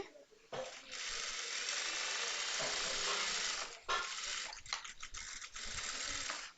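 A sewing machine runs almost continuously while stitching a blouse, a steady close mechanical whir that stops briefly near the four-second mark, then restarts in shorter uneven bursts.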